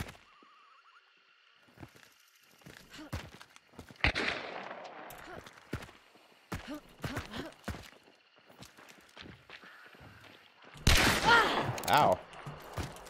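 Gunfire in the video game Hunt: Showdown: scattered sharp shots and footsteps build to a loud, dense burst of firing near the end, with game ambience throughout.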